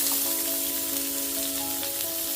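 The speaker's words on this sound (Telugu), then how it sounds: "నూనె బాగా కాగింది. ఇంకా మనం ఉల్లిపాయలు వేసేసుకుందాం" Sliced onions dropped into well-heated oil in a pan, a steady close hiss of sizzling with faint crackles running throughout, over a constant background hum.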